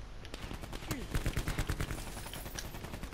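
Rapid gunfire in the video game Call of Duty: Black Ops 4, a burst of fairly loud, quick repeated shots with a steady rhythm through the middle of the clip, over busy game ambience.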